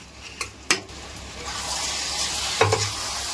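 Chicken curry masala with onions being stirred in a pan on a village cooking fire: a soft steady sizzle with a few sharp scrapes and clinks of the spoon against the pan, close up, with no talking.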